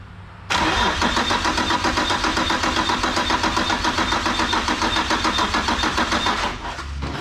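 A drift car engine is cranked over by its starter during a cylinder compression test, a loud, close, steady rhythmic churning that runs for about six seconds before cutting off abruptly.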